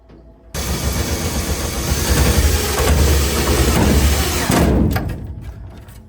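Power drill driving a self-tapping screw into a sheet-metal humidifier duct for an AprilAire 500M whole-house humidifier: a loud, steady whirring grind lasting several seconds, then tapering off near the end.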